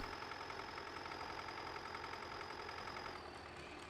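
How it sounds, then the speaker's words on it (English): A small tractor engine in Farming Simulator 19 idles steadily with a constant chugging drone and faint vibration, nearby, with no talking. "Still loving this little tractor here. It's got a great sound to it."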